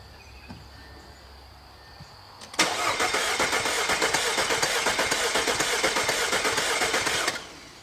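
An engine cranks over with the starter during a compression test, a loud, fast, even churning that starts abruptly, runs about five seconds and then stops, with faint insect chirping in the background and no talking.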